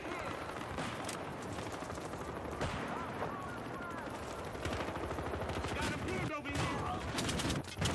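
Rapid automatic gunfire from Battlefield Hardline multiplayer on PS4 crackles through most of the stretch in dense bursts, with a player talking over the game sounds.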